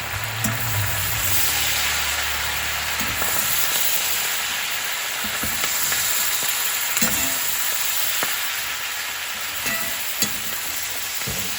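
Cabbage fries with bacon in a pan on a stovetop burner turned down to low-medium, a continuous close sizzle and hiss with scattered scrapes and taps of stirring.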